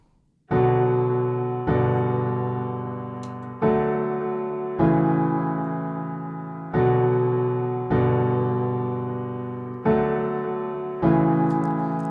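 Sustained keyboard chords from a song struck one after another, each ringing and slowly fading before the next, eight changes at an even, unhurried pace.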